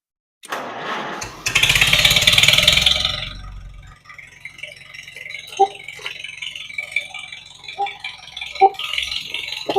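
Farmall H tractor engine cranking and catching with a loud rattling burst, then settling into a quieter uneven idle with sporadic knocks and clanks.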